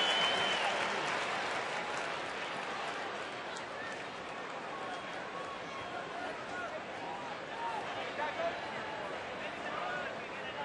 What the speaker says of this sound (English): Bronx cheer.